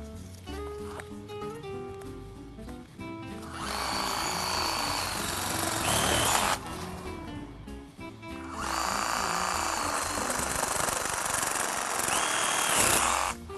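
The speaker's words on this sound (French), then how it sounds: "Le second outil fonctionne comme une scie. Il vous permettra de couper des branches de plus grosses sections" A battery-powered garden saw whirs in two long, loud bursts of cutting through branches about 25 mm thick, with a short pause between, preceded by a quieter stretch of rustling.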